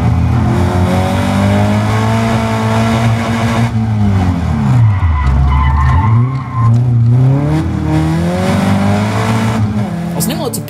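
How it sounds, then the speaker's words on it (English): Caterham race cars at the Silverstone circuit roar past with loud, rising and falling engine notes and tyre squeal as several cars run wide on a corner exit, continuous and close, with commentary over the top. "A couple of cars running wide coming out of Cops, including Gareth Lucas"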